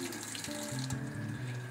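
Tap water runs steadily from a faucet into a sink, warming up before filling a yerba mate gourd, a close, continuous splashing stream with shifting low tones and no voices.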